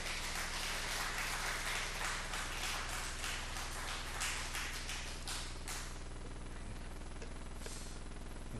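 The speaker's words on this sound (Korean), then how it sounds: "우리 힘차게 우리 박수해 주셔서 우리 격려해 주시면 좋겠습니다." A church congregation claps throughout a worship service, a steady dense wash of hands that thins out over the last few seconds, with no talk over it.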